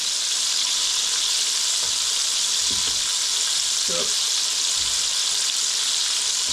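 Beer-battered catfish fillets sizzle loudly in hot oil, a dense continuous hiss up close with faint clicks and knocks from handling underneath.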